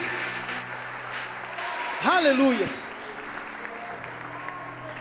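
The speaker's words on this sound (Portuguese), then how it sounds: "Aplauda o Senhor, me ajuda aí." A church congregation at a family worship service claps steadily, a continuous patter of hands, while a preacher's voice calls out over it briefly.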